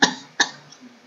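Two short, sharp coughs from someone close by, less than half a second apart, followed by quiet.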